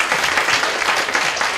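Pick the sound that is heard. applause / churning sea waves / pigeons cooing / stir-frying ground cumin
applause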